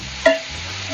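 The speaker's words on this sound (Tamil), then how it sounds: "கொஞ்சம் கலர் சேஞ்ச் ஆகிற வரைக்கும் நம்ம ஃப்ரை பண்ணிக்கலாம்" Paneer fries in butter or ghee in a pan, a brief stir-clatter then a steady close hissing sizzle.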